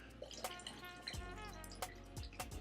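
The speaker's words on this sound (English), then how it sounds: "just pour it back in my little container here" Water poured from a small vessel back into a little container, a brief trickle and several distinct drips landing in liquid, close and fairly quiet with no talking.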